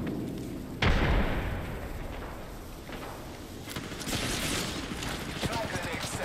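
A frag grenade detonating in the Apex Legends video game: a loud, sudden blast near the start that rumbles away into a lingering roar, with game noise and voice lines around it.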